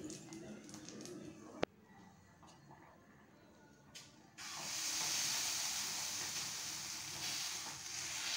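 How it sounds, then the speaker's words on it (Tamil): Egg batter is poured onto a hot dosa griddle for an egg adai, then a loud, steady hiss and sizzle rises abruptly and holds close up to the end, after a quieter stretch with a sharp click. "இப்போ ஒரு தோசைக்கல் சூடானதும் இதெல்லாம் நம்ம ஊற்றி எடுத்துக்கலாம்."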